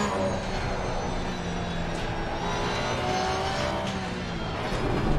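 BMW race cars in a Low Fuel Motorsport sim race produce a steady, droning engine whine with shifting tones as they run close together, loud and continuous, with no talk.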